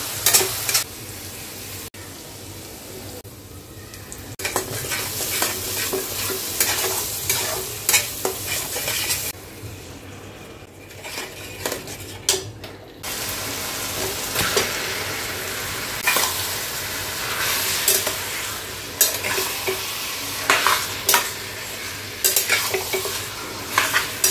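Spice paste frying with browned onions in a pan for a spinach-chicken dish, a steady close sizzle broken by repeated scraping stirs, with one brief quieter lull midway.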